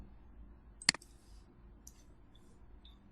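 A single crisp mouse click in a web browser, close and brief, followed by near-silence with a couple of faint high ticks.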